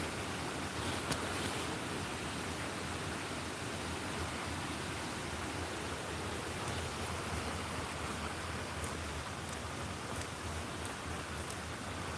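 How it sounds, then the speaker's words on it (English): Steady outdoor river water flows in a continuous broadband rush in Kenya after rain, loud and unbroken throughout with no talking over it. "I can hear the water now."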